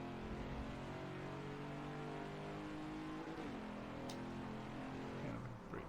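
A Ford Mach 1 engine drones steadily at high revs while lapping the Watkins Glen race track, a loud continuous roar with rising pitch as the throttle is fed on out of a corner.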